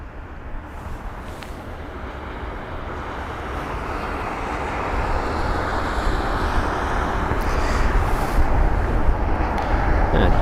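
An airliner arriving at London Heathrow, a broad distant jet roar that swells slowly as it approaches, with some wind noise and no talking.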